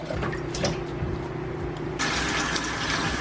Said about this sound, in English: so you wash it first, then you clean it and wash it again